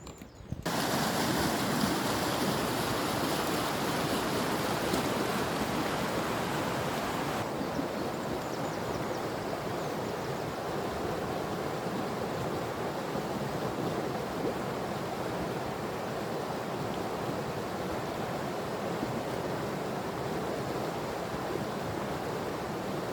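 Morning outdoor ambience at a pond at seven o'clock, a steady soft wash of broadband noise like wind and moving water, faint and continuous with no clear voices.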